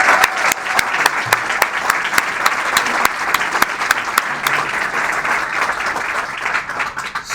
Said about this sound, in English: let's just give everyone a round of applause when we're done